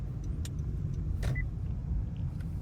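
A car driving, heard from inside as a steady low engine and road rumble with a couple of faint brief clicks, no talking.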